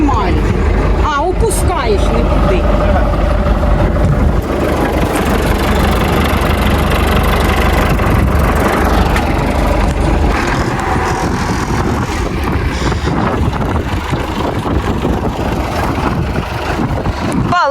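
A tractor engine idles during a potato harvest with a steady low rumble throughout, loud and close, while people talk over it.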